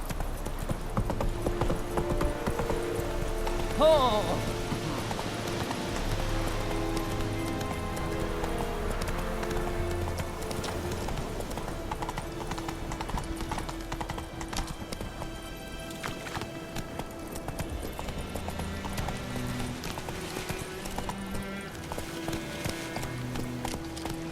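A horse's hooves gallop in The Witcher 3 video game as a steady, rapid clip-clop that carries throughout. Game music and ambience run underneath, and there is a brief neigh.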